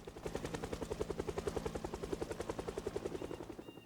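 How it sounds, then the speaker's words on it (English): A helicopter in the video game Project Zomboid passes overhead, its rotor producing a steady, rapid, evenly pulsed thudding chop that holds at moderate loudness throughout with no talking. "The chopper's here."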